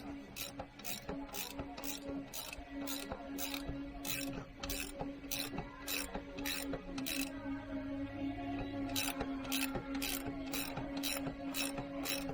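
A bolt on the timing cover of a 2009 Cadillac CTS 3.6 engine is cranked in by hand with a ratchet, giving steady rhythmic clicking bursts, roughly two per second, close and fairly quiet over a low hum.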